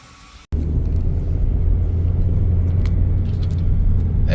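A Hyundai i30 engine starts abruptly after near silence, then runs as a loud, steady low rumble while the car is maneuvered after washing.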